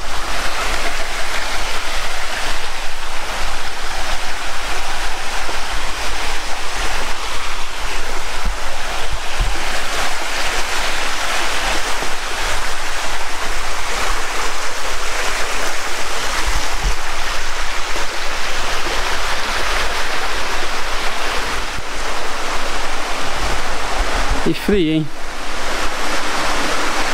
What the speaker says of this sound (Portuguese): Essa aí é a Cachoeira das Virgens.